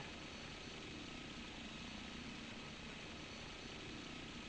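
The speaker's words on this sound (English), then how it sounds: "this is the RAH-66 Comanche attack helicopter" An RAH-66 Comanche attack helicopter in a video game flight simulator gives off a constant broadband rotor and engine roar, steady and unbroken, with no voices.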